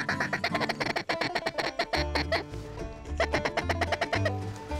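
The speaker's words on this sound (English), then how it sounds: "Here comes the duck, Yanni." Ducks quack in rapid, repeated bursts during a duck hunt, loud and close, layered over low droning calls or wind.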